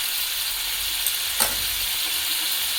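Katla fish kalia curry bubbling in a pot, a steady close hiss of simmering with a brief pop midway, no voices.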